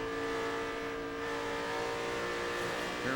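A NASCAR Nextel Cup race car engine at the 2006 Banquet 400 runs through traffic in a steady, loud, buzzing drone, with a slight lift in pitch near the end as the throttle is worked.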